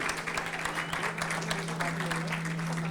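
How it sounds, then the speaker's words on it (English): A crowd applauds at a film promotion stage event, brisk clapping that runs the whole moment, with a voice talking faintly over it. "Can we have a huge round of applause again"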